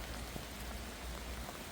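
Rain falls steadily outdoors, a soft, faint, even patter of drops with no voices over it.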